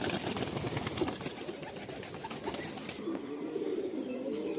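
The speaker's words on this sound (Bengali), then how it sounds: "বেশ সুন্দর সুন্দর পায়রা রয়েছে এখানে" Andhra pigeons in a large pigeon loft in West Bengal, soft cooing and rustling amid a hissy, busy background, fairly faint and continuous without clear speech.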